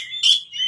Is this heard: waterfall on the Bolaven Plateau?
no